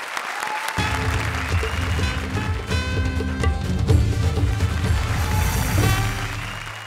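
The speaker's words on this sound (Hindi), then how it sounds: "जोरदार तालियां हमारे सुमंस की सुदेश जी के लिए" A comedy show audience claps steadily for several seconds over a droning musical backdrop, the applause staying loud throughout before easing off.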